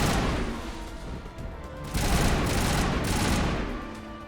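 Burst-fire rifle shots in the video game Mass Effect, a dense, loud rattle of rapid gunfire running continuously, swelling and easing in heavy waves with no talking.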